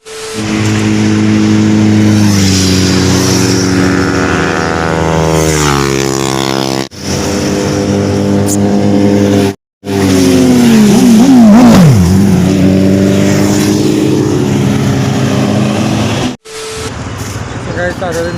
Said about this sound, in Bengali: দেখতে পাচ্ছ পেছনে কত বাইক আছে